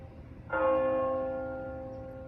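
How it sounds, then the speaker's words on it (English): A church bell cast in Mesilla in the 1800s strikes once with a loud, clear clang, its ringing tone slowly fading away over the following seconds. "So these bells were cast in Mesilla back in like 18 something"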